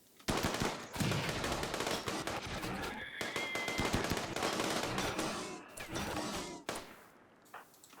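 Charge lance gunfire in Rimworld Anomaly, a dense rapid burst of loud shots and impacts with no gap over several seconds, trailing off into quieter clatter at the end.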